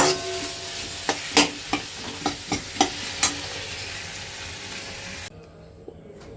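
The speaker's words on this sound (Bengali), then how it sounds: "টমেটো দিয়ে বাঁধাকপিটা এখন কষিয়ে দিচ্ছি।" Boiled cabbage and tomato sautéing in a pan, a steady close sizzle with several sharp stirring scrapes and clinks of a utensil against the pan, then quieter near the end.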